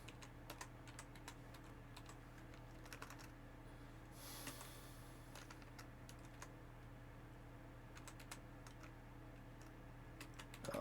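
Computer keyboard keys are tapped at a steady pace for nearly eleven seconds, clicking faintly over a constant low hum of helicopter cockpit ambience in a flight simulator; no one speaks.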